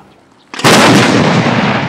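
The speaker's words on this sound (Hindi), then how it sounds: "शुमाली कोरिया और जनूबी कोरिया अपनी बेहद महफूज सरहदों से एक दूसरे पर तोपों के गोले फायर कर रहे हैं।" An artillery shell is fired at the border between North and South Korea: a sudden, very loud, close blast breaks a near silence and then rolls on as a heavy, sustained roar.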